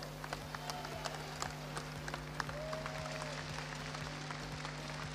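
Applause from an audience at a celebration of a football club's promotion to Ligue 1, a steady, soft patter of many hands clapping, fairly distant, continuous throughout with a low hum underneath.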